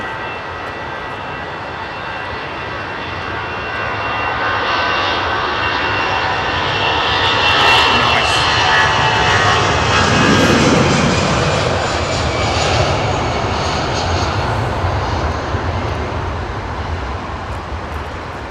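Jet airliner departing London Heathrow, a loud, steady engine roar that swells to a peak midway through and slowly fades, heard alone with no talking.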